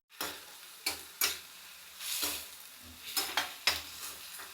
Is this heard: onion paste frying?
yes